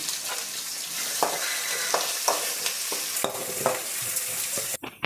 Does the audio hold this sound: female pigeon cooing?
no